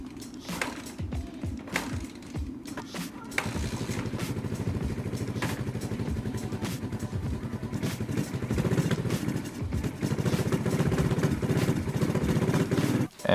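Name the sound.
cheap dirt bike engine running on starter fluid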